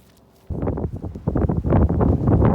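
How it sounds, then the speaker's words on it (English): Wind gusts outdoors during a neighborhood nature walk, tossing growing lilies about; after a quiet start, loud, rough buffeting rumbles in uneven surges against the microphone. "this wind is really blowing them around"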